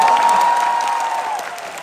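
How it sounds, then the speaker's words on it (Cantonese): Audience applause at a Hong Kong entertainment event, steady clapping with a faint background crowd murmur and a sustained tone running beneath, lasting about two seconds at moderate loudness. "大家啲掌聲啊"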